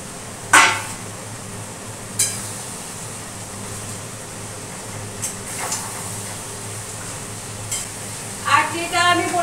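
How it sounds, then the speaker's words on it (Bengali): Fish stir-frying in oil and cooked-down spiced masala, a soft steady sizzle broken by a few sharp scrapes and knocks of the spatula against the pan, with no talking. "আর মাছগুলো এই কষানোর ভিতর দিয়ে একটু মাংসর মতো করে অল্প করে কষিয়ে নিই।"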